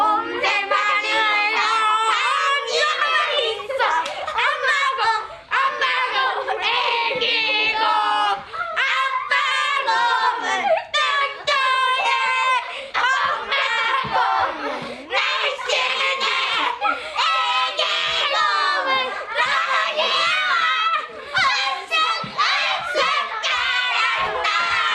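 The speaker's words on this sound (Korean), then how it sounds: "제주 설문대 도서관 어린이들이 곰새말이라는 노래를 보내줬는데 한번 들어보겠습니다" A group of children from a library in Jeju sing the Korean song Three Bears together, their high bright voices carrying a bouncy tune throughout, mixed with giggles and shouts.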